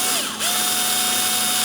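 A power driver whirs as it backs a screw out of an ELKA Synthex synthesizer case, its pitch climbing briefly before settling into a steady, close, loud whine.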